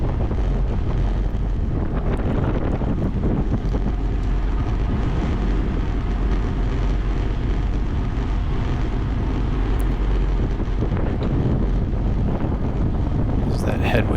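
Heavy headwind roars across the microphone while cycling in a race, a constant loud buffeting rush that fills the whole stretch with no let-up.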